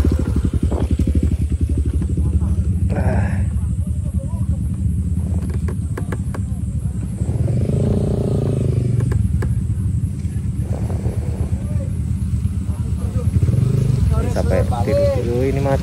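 A motorcycle engine rumbles steadily close by throughout a ride at Bromo Tengger, with people talking over it and occasional clattering.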